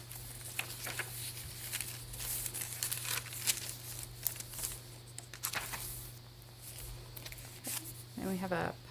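Paper pages, including a sheet of vellum, being handled and crinkled in a handmade hardcover bird junk journal, with repeated soft rustles and crackles close up throughout over a steady low hum.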